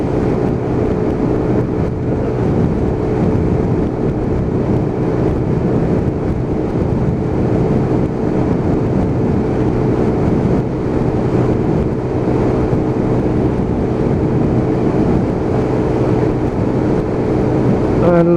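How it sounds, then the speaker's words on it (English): A Lexmoto Titan motorcycle engine runs at full throttle on the road at around 63–65 mph, a steady loud drone mixed with heavy wind rush over the rider's microphone, continuous and unbroken throughout. "still about 63, 65 at full throttle, and that is going to make that engine work to its maximum capacity"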